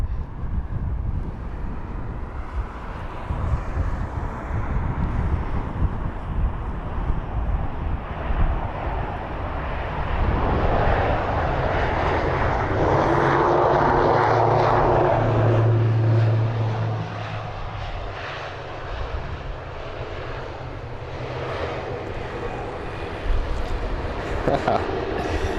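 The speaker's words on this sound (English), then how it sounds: "Logan Air with the ATR 72600." A Loganair ATR 72-600 turboprop at London Heathrow, its engine roar building to a loud, droning pass with wind buffeting the microphone, while someone talks over it.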